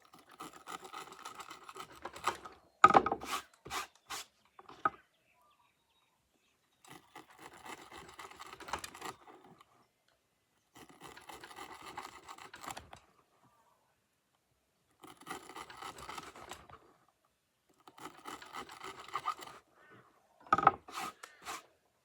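Tactical knife edge being sharpened in separate bursts of rhythmic scraping strokes, each lasting a couple of seconds with quiet pauses between, plus a few sharp metallic clicks.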